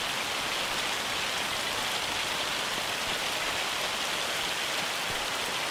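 Hail storm in the Farming Simulator 25 video game, a steady dense hiss of pelting ice and rain on surfaces that stays loud and constant throughout, with no voices over it.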